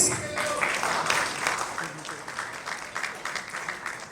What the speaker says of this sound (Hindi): जोरदार तालियां हो जाए guys